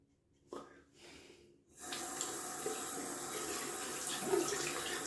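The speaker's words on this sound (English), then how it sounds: "a little bit hard to rinse off the razor" A tap runs water over a safety razor being rinsed, opening with a couple of soft breaths and clicks before a steady, moderately close splashing stream takes over.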